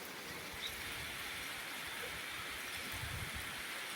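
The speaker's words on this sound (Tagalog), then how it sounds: "Ulan na rin sa Sabelete." Steady rain falls in Southern Leyte, a soft even hiss like a constant wash of water, faint and unbroken with no voices.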